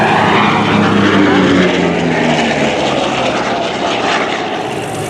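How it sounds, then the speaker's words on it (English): A Corsair propeller fighter passing at the NAS Jax airshow, a loud sustained piston-engine roar that fades slightly as it moves away. "The Corsair was initially designed to be flown off the decks of aircraft carriers."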